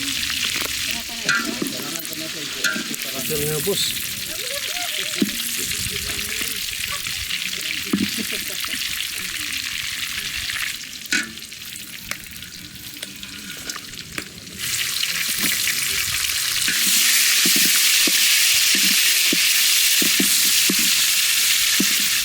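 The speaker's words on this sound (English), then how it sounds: "that pork is coming along nicely, really starting to brown as the fat melts" Pork frying in its own melting lard during a Philippine village boodle fight cook, a loud continuous sizzle with scraping stirs, occasional water and clatter sounds, and a brief voice partway through.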